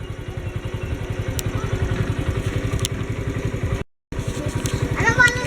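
A motorcycle rolls through a Philippine fishermen village on Guimaras Island, its engine thrumming in a steady rapid pulse up close, with a brief dropout and a slight rise in revs near the end.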